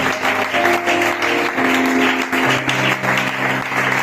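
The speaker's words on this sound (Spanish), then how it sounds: "Dale un fuerte aplauso al Señor." A church congregation applauds loudly and steadily through a worship service, the dense clapping sustained with sustained musical tones humming beneath it.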